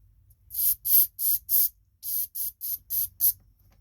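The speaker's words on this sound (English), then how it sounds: "As you can see it's spraying all over the place already." Nine short, sharp hissing bursts of carburetor cleaner sprayed up close into the carburetor of a Briggs & Stratton 5 horsepower engine, in two quick uneven groups with brief pauses between them.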